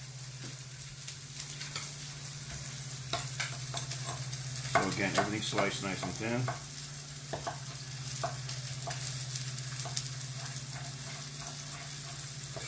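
Vegetables, including broccoli rabe, sizzle and crackle in a hot pan while being stirred, with a person talking over the frying.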